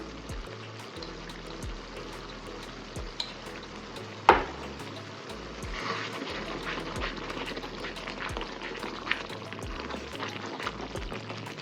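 A pan of thick mushroom pepper masala sauce bubbling and sizzling steadily on the stove, with a few light scrapes and knocks as it is stirred.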